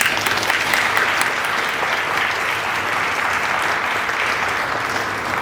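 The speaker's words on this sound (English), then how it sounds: "That's worth a round of applause." A large audience applauds steadily at a student address event, dense sustained clapping filling the hall at an even level throughout, with no talking.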